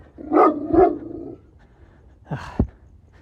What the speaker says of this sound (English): every night the dog just starts barking and barking and barking